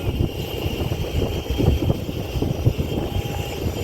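An airplane in Malta drones steadily as a continuous rumbling engine roar, fairly loud and close, with no talking.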